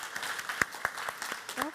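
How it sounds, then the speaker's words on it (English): Scattered audience clapping at an Asian art scholars' symposium session, faint and somewhat distant, a few separate claps rather than a full ovation, with voices talking over it. "let's clap and thank everyone"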